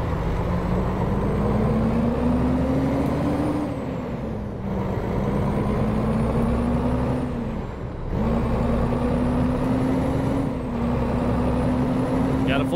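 Freightliner Cascadia truck in American Truck Simulator, a loud droning engine whose pitch climbs steadily then drops with each gear change, repeating through several shifts, with a faint high whine riding on top.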